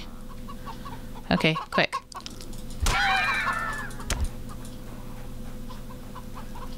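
Chickens clucking in the survival game CHKN, a few clucks and squawks against a steady game background hum, with someone talking briefly.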